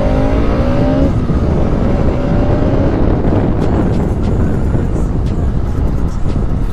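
A Bajaj Pulsar RS 200 motorcycle ridden along a street, its engine droning steadily with continuous loud wind rush and road noise throughout.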